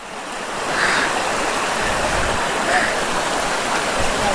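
Fast-flowing monsoon water rushes loudly and steadily around a motorcycle crossing it on a ride, a close, continuous roar of churning spray near a waterfall.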